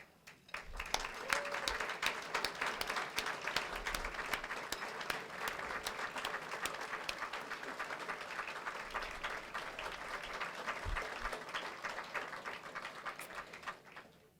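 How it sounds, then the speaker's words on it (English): Sustained applause from a banquet audience standing to honor educators, steady and full for about fourteen seconds before tapering off at the end. "let us give you a well-deserved round of applause"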